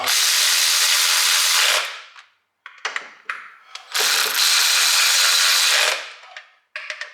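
A ratchet tightens clutch slave cylinder bolts into an aluminum transmission on a Nissan G35/350Z during a Wilwood clutch master and slave cylinder install, giving two long, loud, steady buzzing runs of rapid clicks separated by shorter bursts, close up and without talk.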